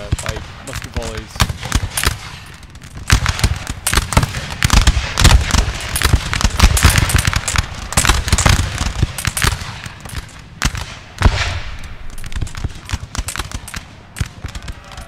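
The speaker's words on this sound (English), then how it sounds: "Just watch these musket volleys go on." Musket volleys in Napoleon: Total War at the Battle of Saalfeld 1806: a dense, continuous crackle of rapid overlapping shots, loud and steady across the whole span, with scattered sharper reports standing out from the roar of gunfire.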